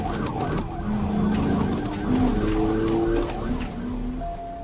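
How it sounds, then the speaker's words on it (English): A police car siren wails in rising and falling sweeps during a motorcycle chase, heard fairly close over road and engine noise, with the tone shifting in pitch across the stretch. "The officer activated emergency lights and siren"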